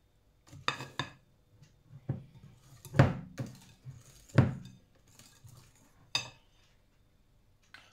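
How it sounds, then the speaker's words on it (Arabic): Cake batter stirred by hand with a whisk in a bowl: irregular metallic clinks and knocks against the bowl, some sharp and loud, spaced unevenly with quiet gaps between them. "دوك نجيب الفوي تاعي ونخلط به"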